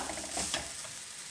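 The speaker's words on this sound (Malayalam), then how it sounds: "ഞാനിതെല്ലാം നന്നായിട്ടൊന്ന് റോസ്റ്റ് ചെയ്യാണ്" Ingredients for uzhunnu kozhukatta, a steamed urad dal dumpling, roasting in a pan, giving a soft, steady sizzle with light scraping and stirring noises, faint and close, without speech.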